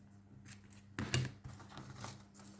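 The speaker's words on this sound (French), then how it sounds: "je vais prendre toutes mes petites languettes, là, et je vais les couper" Scissors snip through small paper strips cut for iris folding, a cluster of crisp close cuts with a louder burst near the middle and lighter trailing snips, no talking.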